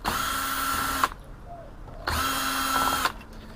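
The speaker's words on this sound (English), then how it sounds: "so I'll just undo these screws" A power drill whirs steadily for about a second, stops, then runs again for another second, backing screws out of a telecom-grade circuit board; the two close bursts stand alone with a short quiet gap between.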